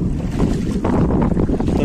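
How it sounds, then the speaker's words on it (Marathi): Strong wind buffets the microphone on a boat crossing rough water toward a small island near Nashik, Maharashtra, a continuous loud roar with choppy gusts and no talk. "कारण वाऱ्याचा प्रवाह जास्त वाढत झालेला"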